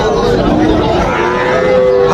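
Sahiwal calves at a cattle market in Panchbibi give drawn-out, loud moos close to the microphone, one after another over a busy background, with faint voices around.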